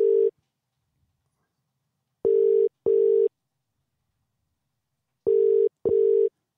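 Phone call ringing tone heard through a Bluetooth connection: a steady mid-pitched electronic tone sounding in short paired bursts with long silent gaps, loud and clear with no talking.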